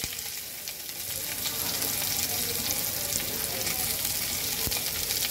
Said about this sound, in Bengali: এর মধ্যে দিয়ে দেব আমি কুচি করা পেঁয়াজ